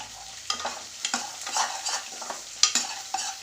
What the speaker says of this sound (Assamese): মই ইয়াতে দি দিম 1 চামুচ ধনিয়াৰ গুড়ি।